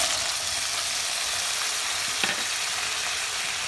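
Shrimp pan-frying over low heat in a covered pan, a steady soft sizzle and crackle running throughout with one brief clink of utensil, fairly close and alone.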